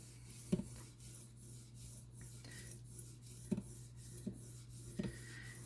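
A knife edge being polished on a Hapstone RS sharpening system, quiet rhythmic rasping strokes of stone on steel, a handful of soft scrapes with small taps over a low steady hum, close and faint.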